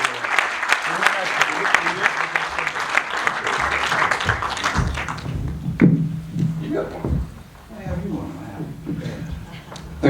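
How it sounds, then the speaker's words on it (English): Audience applause for a panel of speakers at an election-themed discussion event, a dense crowd clapping for about five seconds before it fades into a single voice talking. "maybe a round of applause for our fantastic panelists"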